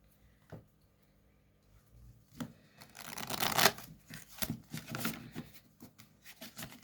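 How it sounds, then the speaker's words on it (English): A deck of cards is shuffled by hand in a quiet room: a few soft taps, then a dense, riffling flutter of card edges that swells and continues in irregular bursts. "I'm going to give it a quick shuffle."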